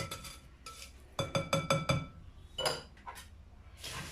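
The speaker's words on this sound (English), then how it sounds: "I'm going to use my whisk now. I just want to incorporate this through." Metal whisk stirring a coconut scraps mixture in a bowl, a series of quick close clinks and taps against the bowl in short bursts with pauses between.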